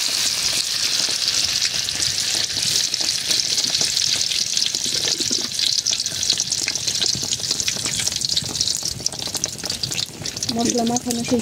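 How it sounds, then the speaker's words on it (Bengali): Chopped dried chilies frying in hot oil in a village kitchen while mango pickle is made, a continuous loud sizzle with stirring scrapes and a short burst of clatter near the end. "এখন এটা গরম হওয়া পর্যন্ত এই যে শুকনো মরিচ কুচি করে নিচে দিয়ে দিলাম।"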